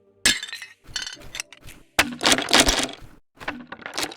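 Wooden crates break apart as a video game sound effect, in a series of sharp cracks and splintering crashes, several bursts in close succession, loud and near with brief pauses between impacts.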